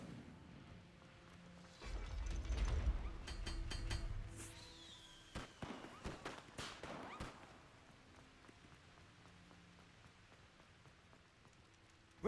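Incendio fire spell cast in the Hogwarts Legacy video game: a loud whooshing burst of flame with crackling, snapping sparks that swells, then sharp cracks trailing off into quieter ambience.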